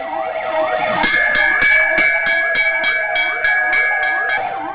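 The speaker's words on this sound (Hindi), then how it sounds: "क्या सायरन बजाकर जनता जागरूक हो जाएगी?" An emergency siren wails steadily and loudly in a repeating rising-and-falling cycle, heard alone and close with no talking.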